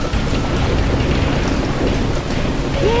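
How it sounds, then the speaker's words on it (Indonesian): Cartoon-style storm effect with steady roaring rain and rumbling thunder around a boat at sea, loud and unbroken throughout, with a faint rising whistle-like tone near the end. "Hati-hati, badai semakin kuat."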